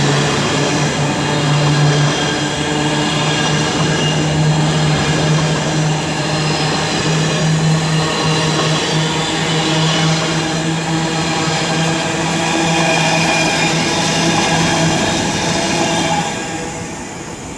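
Avanti West Coast train 39131, working the Blackpool North to London Euston service, at Birmingham International station on the West Coast Main Line. A loud, steady rumble and hum fills the whole span with a sustained tonal whine, then eases slightly at the end.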